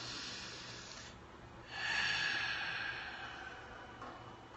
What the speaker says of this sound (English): Take a deep breath, everyone.